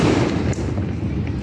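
Fourth of July fireworks boom and crackle in a dense, continuous outdoor barrage, loud and nearby, with faint voices underneath.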